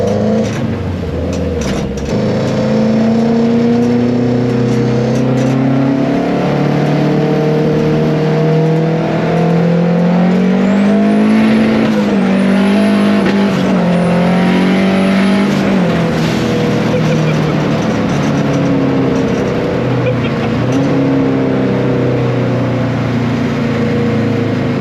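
A Ford car drives along with a steady, loud engine drone that rises and falls as the revs change, a rattling cabin under it, heard from inside.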